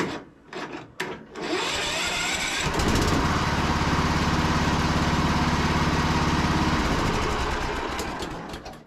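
A Cub Cadet lawn tractor engine cranks and catches, settling into a loud, steady running drone nearby for several seconds after a few brief attempts.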